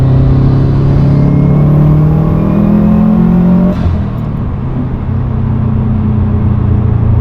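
A Subaru WRX engine tuned to about 400 hp, heard from inside the cockpit, loud and steady, with revs climbing then dropping back to a lower cruising hum.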